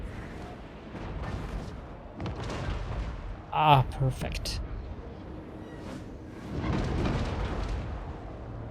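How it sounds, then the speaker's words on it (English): Grand cannon artillery booms in a Total War Warhammer 3 battle as Grand Cathay, a sharp blast in the middle over distant rumbling battle noise, with someone talking over the game. "Grand cannon. That broke it."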